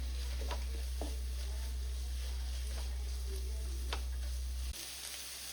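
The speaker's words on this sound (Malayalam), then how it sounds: "ഇതിലേക്ക് നമുക്ക് ചെറുതായി അരിഞ്ഞു വെച്ചിരിക്കുന്ന സവാള ചേർത്ത് കൊടുക്കേണ്ടതാണ്. നന്നായി ഇളക്കി കൊടുക്കാം." Sliced onions sizzling in a pan for Kerala-style duck mappas, a faint steady crackle with occasional stirring clicks over a low constant hum that cuts out near the end.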